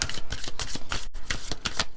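A deck of oracle cards is shuffled by hand in quick, rapid riffling bursts of papery flicks with one brief pause midway, close and fairly loud, no talking.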